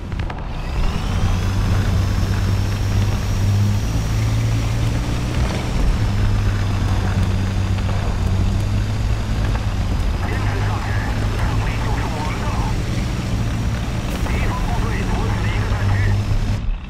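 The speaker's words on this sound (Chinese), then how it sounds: "飞机" An airplane in the video game War Thunder, a continuous droning engine hum with a steady low tone that holds for the full length, loud and even.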